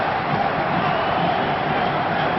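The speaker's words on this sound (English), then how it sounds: "listen to that crowd. A lot of support for Finland on this power play." A large ice hockey arena crowd roars steadily in support of Finland's power play in a 1991 world championship relegation game against West Germany, a dense, continuous wash of cheering with no breaks.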